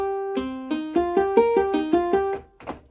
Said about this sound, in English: The sound that I use for that is called, on my keyboard, gut guitar.